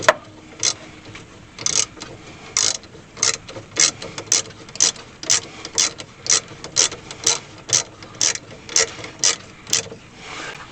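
Hand ratchet clicking in steady bursts while bolts are tightened during a Scarebird brake installation on a 1964 Ford Falcon, about eighteen sharp, close clicks in a regular rhythm with short pauses between strokes, no talking.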